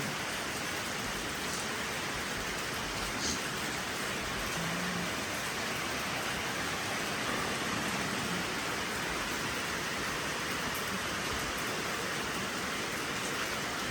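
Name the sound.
heavy rain and wind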